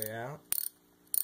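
A thread chaser is backed out of an aluminum cylinder head, giving two short, close bursts of quick ratcheting clicks separated by a brief quiet gap.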